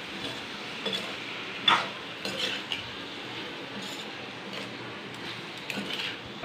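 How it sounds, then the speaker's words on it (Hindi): Boiled potatoes broken up and dropped into a pan of frying capsicum, giving soft scattered clinks and taps of a utensil against the pan, faint and irregular, with no talking. "अपने बॉईल आलू को इस तरीके से फोड़ लेना है"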